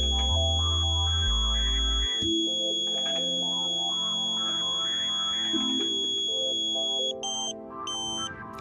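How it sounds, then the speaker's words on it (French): A continuous electronic pointing tone from a Numflex satellite dish alignment setup holds steady, then shifts and breaks into short rapid beeps near the end, over soft background music. "Vous devez entendre la tonalité baisser une deuxième fois."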